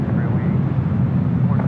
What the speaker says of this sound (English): Air Canada Dreamliner making that left-hand turn, heading to 25 right.